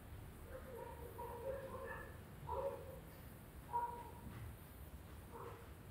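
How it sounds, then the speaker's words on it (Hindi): A dog gives a few short yips and barks at a moderate distance, three distinct bursts spaced over several seconds against a steady background hiss. "गन्नू जैसे ही भौंकना शुरू किया"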